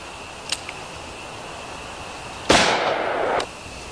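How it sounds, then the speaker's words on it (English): A Federal 125 grain .357 Magnum jacketed hollow point fires from a Ruger SP-101 revolver with a 2 1/4 inch barrel: one sharp, loud blast with a short, bright decay, after a couple of faint clicks. "we're going to shoot that Federal 125 grain jacketed hollow point in full .357"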